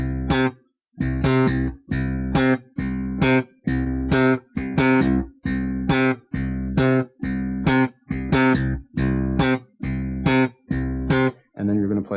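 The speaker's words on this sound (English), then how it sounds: "we're just going to play some simple octave exercises using some of the right hand rhythms that we talked about previously" Slap bass guitar playing a simple octave exercise: a steady repeating rhythm of two long tones followed by a short tone, loud and close, with no talking.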